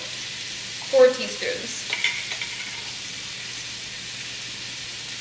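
Chopped onion and garlic from a jar being stirred in a pan, a soft steady sizzle with scraping stir sounds early on, fairly quiet, with a brief spoken phrase near the start.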